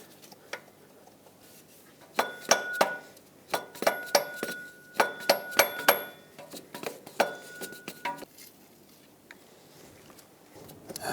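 A corroded water pump pulley on a 2006–2011 Honda Civic is wiggled loose, giving a series of sharp metallic clinks and taps in irregular bursts. The sounds are close and clear over a quiet background.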